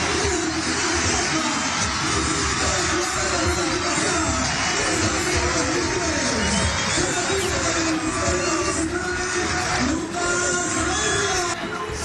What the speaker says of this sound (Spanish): Se viene el cambio y la ovación.